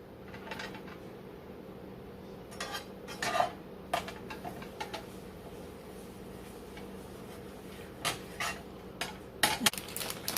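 A knife scraping and clinking against thick bread slices and a dish while spreading butter for a grilled cheese sandwich, soft intermittent scrapes and a few sharper taps over a quiet kitchen hum.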